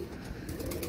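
Pigeons, apparently Rampuri birds kept by a fancier, give a brief, close cooing call lasting under a second against a soft background.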